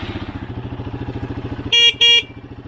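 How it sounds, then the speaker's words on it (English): A brand-new horn fitted to a Yamaha XT250 motorcycle gives two loud, steady honks in quick succession, each about a third of a second long, over the bike's rhythmic idling engine. "That horn sounds better than it does in my car"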